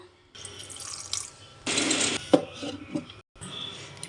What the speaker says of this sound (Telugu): దీనిలో కొంచెం వాటర్ వేసుకుందాం.